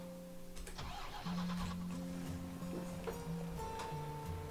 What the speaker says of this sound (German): Ist mal LKW.